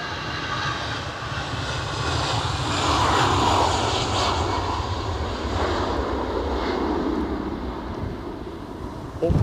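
EasyJet airliner engines at Edinburgh Airport, a broad steady jet roar that swells to a peak midway and slowly eases off, heard from a distance outdoors with wind buffeting the microphone.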